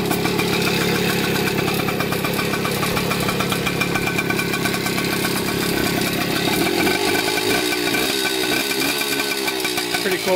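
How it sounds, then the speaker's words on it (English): A Kawasaki KX 80 dirt bike with its original exhaust pipe idles steadily, its small two-stroke engine putting out a loud, continuous, rough mechanical drone that holds close and even throughout. "we can just start it up here quick. Starts up so easily. Runs perfect."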